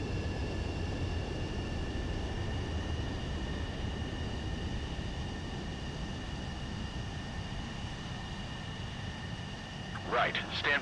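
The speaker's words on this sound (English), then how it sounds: "Make a visual landing." In the video game Ace Combat 7, a jet aircraft lands with a steady, droning engine roar and high whine, and a brief louder burst comes near the end.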